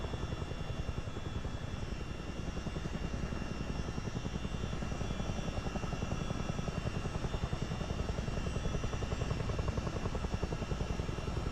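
Chinook helicopter in Microsoft Flight Simulator 2024 during a New Zealand multiplayer flight, a steady heavy rotor drone with a fast thudding blade beat and engine whine, loud and continuous throughout with no talking.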